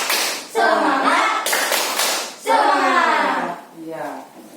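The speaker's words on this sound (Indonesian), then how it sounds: "kita lakukan tepuk semangat dulu" Schoolchildren in an Indonesian classroom perform the tepuk semangat, a rhythmic group clapping chant, in loud bursts of claps mixed with their shouted voices, repeating across several short phrases.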